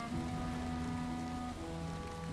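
Steady rain falling in the video game Valheim, a dense, even hiss that continues without a break, with a low game tone humming underneath.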